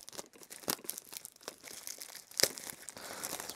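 A sticker peeling from a steelbook of The Revenant during an unboxing, heard as close, soft crinkling and tearing rustles with a sharper peel near the middle.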